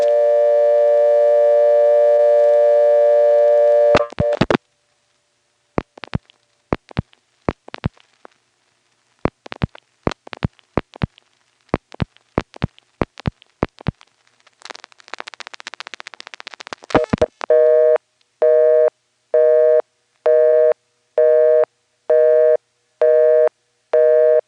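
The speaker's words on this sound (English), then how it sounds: "it started to make the billing clicks that NX1s always make when they're ticketing the call, and then it somehow dumped to a busy" A 1977 coin payphone on a step-by-step and NX1 exchange in Siler City, North Carolina, dialing long distance: a steady tone, then bursts of sharp billing clicks and a clatter, ending in a loud pulsing busy signal.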